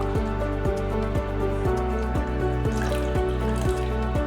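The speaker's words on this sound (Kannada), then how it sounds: "ಹಾಕಿ ಇನ್ನು ಸ್ವಲ್ಪ ನೀರು ಹಾಕಬೇಕು" Water drips and trickles steadily into a pot of cooked lentils for sambar, a close, even splashing pattern with a faint underlying hum.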